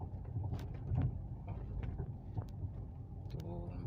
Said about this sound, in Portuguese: olha só o barulho que o carro tá fazendo